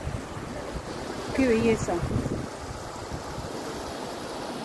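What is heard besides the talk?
river flowing and emptying out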